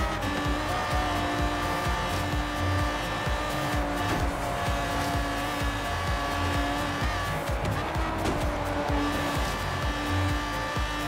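A Lamborghini Aventador in Forza Horizon 3 roars continuously at high revs, tires squealing through a corner, the engine loud and close without pause.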